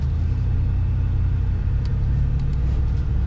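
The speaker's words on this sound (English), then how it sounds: "let's go ahead and take this nice Black Widow to the front here and see how it drives" A 2021 Ford F-150 Black Widow pickup truck driving, a steady low engine and road rumble heard from inside the cab, with faint clicks on top and no talking.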